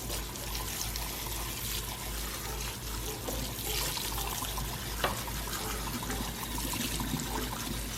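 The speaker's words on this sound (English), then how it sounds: "drain this ground beef and rinse that with hot water" Running hot tap water splashes steadily into a sink while rinsing drained ground beef, a continuous rushing trickle at moderate distance with a low hum underneath.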